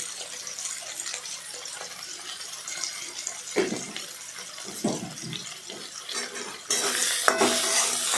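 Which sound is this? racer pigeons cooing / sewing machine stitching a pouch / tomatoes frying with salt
tomatoes frying with salt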